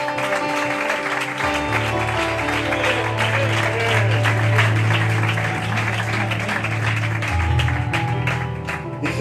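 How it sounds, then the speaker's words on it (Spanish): A church congregation claps in sustained, dense applause under sustained low organ or keyboard tones, with voices faintly mixed in throughout. "Un fuerte aplauso para el Señor."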